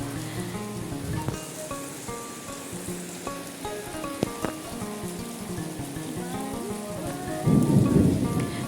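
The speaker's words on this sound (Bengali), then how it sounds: "হঠাৎ করে এরকম ঝমঝমিয়ে বৃষ্টি এলো" Heavy village rain pours down with rumbling thunder in a steady, close downpour with a few sharp cracks. The roar swells near the end and no voices are heard.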